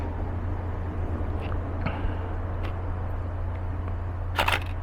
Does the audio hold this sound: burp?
no